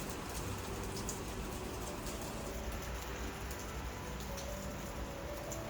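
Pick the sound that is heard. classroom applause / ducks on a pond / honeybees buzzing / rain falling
rain falling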